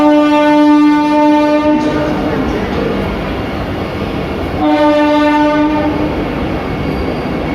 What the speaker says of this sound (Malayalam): കൊല്ലം ടു ചെങ്കോട്ട എന്നീ രണ്ട് ട്രാക്കുകൾ ഇവിടേക്ക് വരുന്നുണ്ട് മൂവിങ്ങായി വന്ദേ ഭാരത്